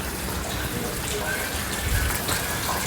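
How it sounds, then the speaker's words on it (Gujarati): Rain beginning to fall outdoors on a farm, a steady broadband hiss and patter that holds at an even, fairly loud level throughout with no clear break. "તો વરસાદ ચાલુ થઈ ગયો"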